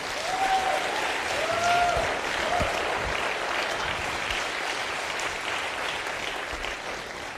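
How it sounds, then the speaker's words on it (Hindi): Audience applause at a Hindi-language talk or stage event, a broad steady wash of clapping that holds loud and even for the whole stretch, with a faint whistle early on. "मैं चाहता हूं एक बार तालियां संदीप जी के लिए भी हो जाएं यार।"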